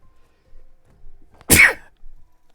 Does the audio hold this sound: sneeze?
yes